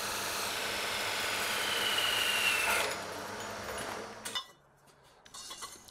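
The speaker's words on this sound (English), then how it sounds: "the first step was to cut and drill all of the individual steel pieces for the frame" Power tools cut and drill steel pieces for a desk frame in a workshop, a harsh whining grind with metallic ringing that drops off into quieter clinks and rattles.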